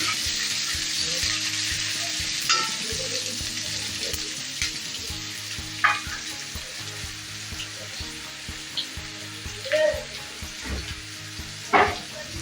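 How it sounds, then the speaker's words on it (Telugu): Okra frying in a pan with dried red chillies, garlic and onions, a continuous loud sizzle with intermittent stirring clinks and scrapes close by, no voices. "అవి కొద్దిగా ఫ్రై అయిన తర్వాత ఎండుమిర్చి వెల్లుల్లి కొద్దిగా ఆనియన్స్ ఇది బాగా ఫ్రై అవ్వాలి ఎర్రగా ఫ్రై చేసుకుందాము"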